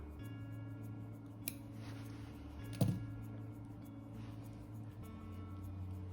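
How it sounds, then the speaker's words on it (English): Scissors make a couple of sharp, close snips trimming fluff from the stalk of a hackle feather at a fly-tying bench, isolated clicks over a quiet low hum. "Just going to take away some of this fluff at the bottom and trim up the stalk."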